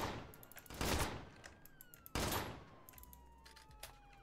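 Gunfire in the Roblox game Liberty County during a police roleplay arrest: two loud, close bursts of rapid shots about a second apart, each trailing into echoing tails and scattered fainter pops.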